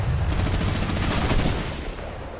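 Minigun fire in Fortnite during a World Cup solo final match, a dense, loud burst of rapid shots that tails off after about two seconds, with no talking over it.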